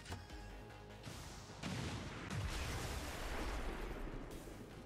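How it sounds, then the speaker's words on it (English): Explosions in the video game Long War 2 for XCOM War of the Chosen, a dense run of loud blasts and crashing impacts that rise in intensity partway through, with no talk over them. "That's two explosions right there."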